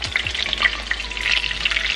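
Chicken fries in hot oil in a pan, a continuous bright sizzle with small pops and spits, close and moderately loud, over a faint low hum.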